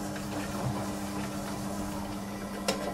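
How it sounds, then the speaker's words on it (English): An electric hand or stand mixer whirs steadily while beating a creamy brown sugar cookie dough, a constant motor hum running for the whole stretch with a brief clatter near the end. "with a hand or stem mixer, give it a good mix until it's nice and creamy and well combined"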